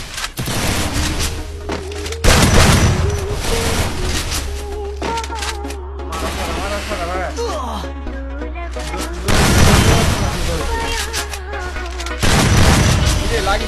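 Gunfire rattles through a round of Free Fire, with bursts of shots and heavy booming impacts in clusters over game music and effects, while a player talks between volleys.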